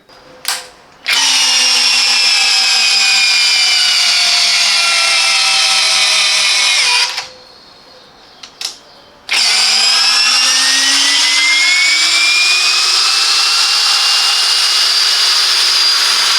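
A Parkside Performance 20V cordless drill driver whirs loudly in two long bursts, each spinning up and holding a steady pitch, with a brief stop and a couple of short blips between them.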